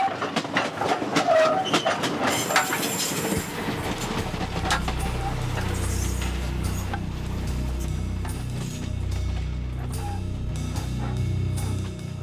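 A train rumbles steadily along rails on a rough route in Congo, with loud continuous low rolling and rhythmic clatter of wagons, plus scattered metallic clanks and squeals throughout.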